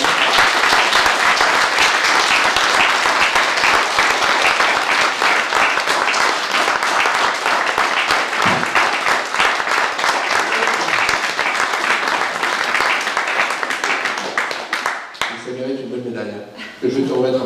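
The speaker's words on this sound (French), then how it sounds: "je pense que ça mérite un tonnerre d'applaudissements." A loud, sustained round of applause from an audience at a town medal award ceremony in Caudry, France, dense clapping filling the hall for about fifteen seconds before fading as a voice begins speaking.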